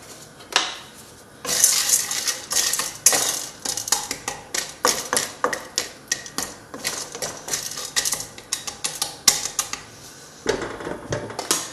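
Dry popcorn kernels are poured into a hot pot, rattling and clattering loudly against the metal in dense, uneven bursts for several seconds with no talking.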